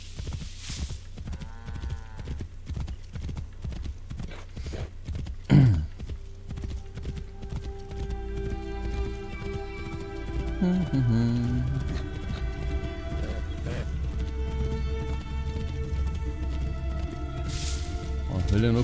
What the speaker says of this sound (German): Mein hübsches Pferdchen.